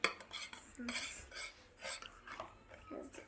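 Slime being stirred in a plastic container, giving soft clinking and scraping strokes in an irregular rhythm, close and fairly quiet, with a voice briefly in the background.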